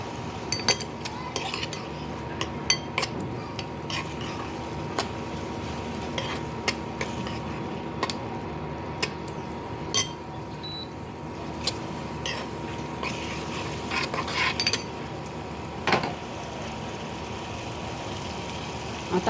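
Spoon scraping and stirring a coconut-onion paste sautéing in a pan for raw jackfruit curry, with steady clinks of utensil on metal over a low continuous sizzle, close and fairly loud throughout, no talking.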